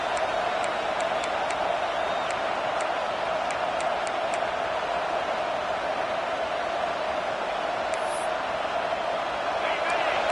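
Huge crowd of over 100,000 Michigan football fans in the stadium roaring steadily during the Michigan versus Oregon game, a dense continuous wall of noise with a few sharp whistles cutting through.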